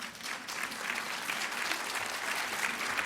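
Applause from a lecture audience fills the room, a steady patter of many hands clapping at moderate volume, slightly distant and sustained for the whole stretch.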